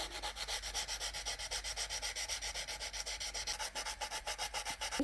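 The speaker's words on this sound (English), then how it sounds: "If you feel like you've sanded a little bit too much" Sandpaper rubs over dried paste on a wall sculpture in quick, even back-and-forth strokes, a steady rhythmic scratchy hiss, close and fairly quiet with no talk.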